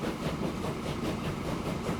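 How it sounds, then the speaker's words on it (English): Borsig steam train in Transport Fever 2, heard from very close: a steady, dense rumble and rolling clatter throughout, with a faint rhythmic pulse and no voice over it. "The train's actually a bit loud when I'm really close to it"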